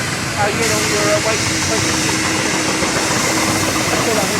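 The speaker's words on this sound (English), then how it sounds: "the 3-inch scale version of the Steam-Rollers" Steady loud hissing of steam from a 3-inch scale model steam roller runs throughout, with faint mechanical chuffing and a bit of background voices mixed in.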